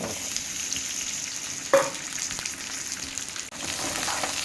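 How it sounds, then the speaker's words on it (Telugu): Sliced onion and two green chillies frying in hot oil in a home kitchen, a continuous steady sizzle with a brief louder stir or clatter partway through. "ఆనియన్ మిర్చి ఫ్రై"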